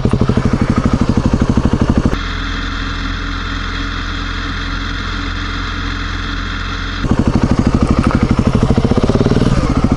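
A motorcycle engine revs hard while the bike is held up on its rear wheel in a wheelie. A pulsing, throbbing exhaust gives way to a sustained high steady drone for several seconds, then drops back into loud rapid pulsing, close and alone.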